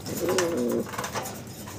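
Soft, throaty pigeon cooing in a short rolling phrase, close by, followed by a fainter second coo.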